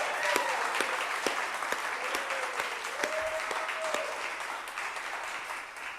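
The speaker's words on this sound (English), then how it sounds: "Another round of applause for the whole group." Audience applause for the performers at an afternoon arts event, a steady wash of many hands clapping at full strength that carries through the whole stretch and eases only slightly near the end.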